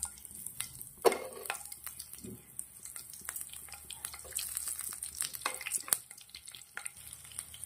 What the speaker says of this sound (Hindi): वही तेल के अंदर मैं थोड़ी सी हरी मिर्ची डाल दूंगी